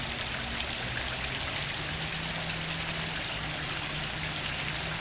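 Pondless waterfall water feature splashing into a 500-gallon rainwater basin beside a paver patio, a continuous close, even wash of falling water with a faint low hum underneath.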